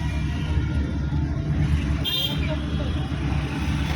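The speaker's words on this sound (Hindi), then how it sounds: "ये बिल्कुल परफेक्ट गाड़ी आपकी चल रही है" A car is driven slowly at night during a driving lesson, its engine and road rumble forming a loud, steady low drone throughout, with an instructor talking over it.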